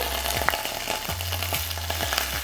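Tomato paste fries in unsalted butter in a skillet, a steady close sizzle with repeated scraping strokes of a utensil against the pan, no voices.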